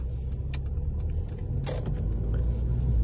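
A 2014 Mercedes-Benz A250 pulls away from a junction, its engine a low steady rumble from inside the cabin with a few faint clicks and knocks on top.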